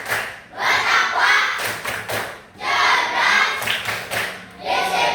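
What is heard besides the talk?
rhythmic clapping chant by schoolchildren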